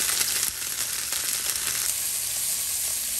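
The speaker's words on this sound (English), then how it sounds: "We're gonna finish this off with a sear. Mate, that's probably too much oil. Let's give it the sear it deserves." Steak searing in a pan of generous hot oil, a loud, steady sizzle and spatter that holds for a few seconds with no voices over it.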